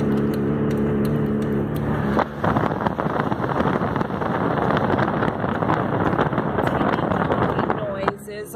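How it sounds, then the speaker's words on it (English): A running vehicle with a failing catalytic converter drives along, giving a loud rough rumble and wind buffeting that swell after a brief dip and stay strong until a clatter near the end, while someone talks over it. "I think that's the catalytic converter going out on my vehicle."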